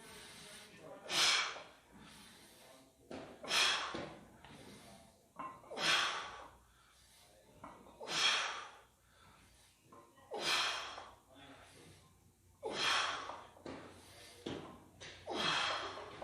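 Heavy, forceful breaths during barbell reps, with sharp exhales repeating about every two to two and a half seconds, close and clear, with quieter inhales between.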